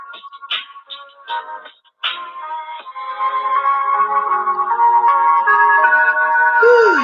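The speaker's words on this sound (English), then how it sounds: "Sorry, y'all, it's a phone call." A phone rings with an incoming call, playing a loud, bright melodic ringtone that starts in short bursts and then settles into a steady tune, heard close and alone with no talking.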